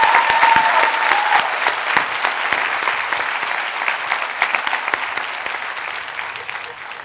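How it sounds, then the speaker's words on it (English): A commencement audience at a college graduation breaks into sustained applause, strong at first and gradually thinning and fading toward the end. "Please, a round of applause for them, their love, and their patience."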